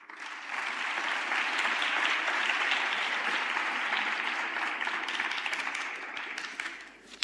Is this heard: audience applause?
yes